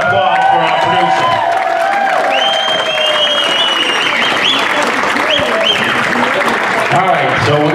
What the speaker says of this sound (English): So let's have a round of applause for our producer.